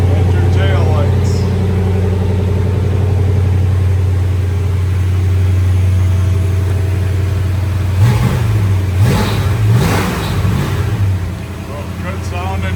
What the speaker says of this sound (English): Good sounding car, good running and driving car.